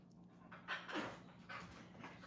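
A dog pants in quick, close, rhythmic breaths while biting and tugging on a person's pants indoors, the huffs clear and fairly soft with no talking over them.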